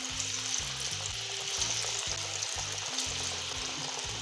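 A batch of onion vadas (ulli vada) deep-frying in hot oil, a loud, dense, continuous sizzle and crackle held close throughout, with no talking.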